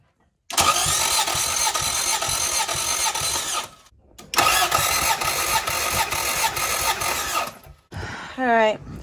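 A motor cranks during a wet compression test with oil added to the cylinder, giving two long, loud bursts of rhythmic starter chugging separated by a short pause, then a brief voice at the end.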